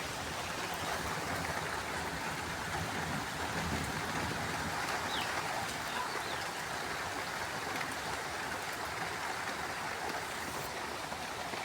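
Steady rain falling in a continuous broadband hiss, close and even throughout with no voices, a wet outdoor wash of drops on surfaces.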